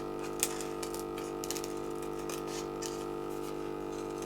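Scissors snip through material during a resin craft project, a few faint, sharp cuts standing out above a steady background hum with no talking.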